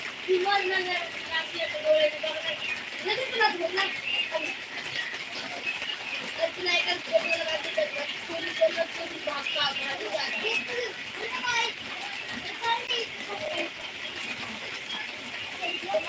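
Steady rain falls in the background during a monsoon-season spell, a continuous hiss with scattered drops, while someone talks over it throughout.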